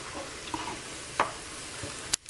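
Tomato paste being stirred into a pot of vegetable soup, a soft sizzle underneath with a few scattered scrapes and taps of the spoon, the last one sharp and near.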